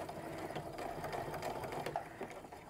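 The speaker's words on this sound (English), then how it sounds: "I'm just gonna stitch down, making real careful to keep the edge of my strap even with the edge of the presser foot" A sewing machine topstitches a quilting-cotton handbag strap, its needle running in a steady fast whir throughout, close and fairly quiet with no voices.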